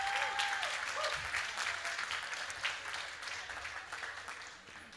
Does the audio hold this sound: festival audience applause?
yes